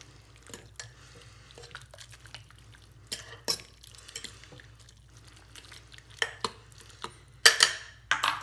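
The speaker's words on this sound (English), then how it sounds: "Now I'm going to add the cup of rice. And mix that in there." A spoon stirs rice into lemon chicken soup with sweet potatoes in a pot, making sparse clinks and scrapes against the pot, with a few sharper knocks toward the end over a low steady hum.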